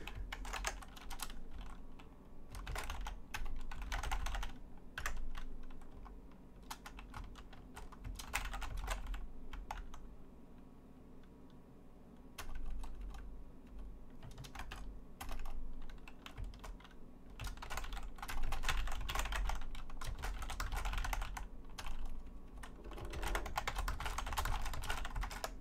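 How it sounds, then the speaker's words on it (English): Someone types on a computer keyboard at close range, with rapid bursts of clattering keystrokes broken by short pauses over a steady low hum, and no voices. "I'm just typing out something real quick"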